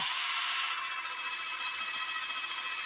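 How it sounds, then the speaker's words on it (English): A steady, high-pitched whine of a cordless drill boring a pilot hole in copper, running continuously, close and loud, with a slight drop in pitch partway through. "I'm going to drill my pilot. This is a pilot hole."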